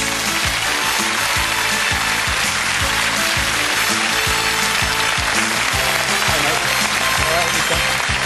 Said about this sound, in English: So please, let's give a big round of applause.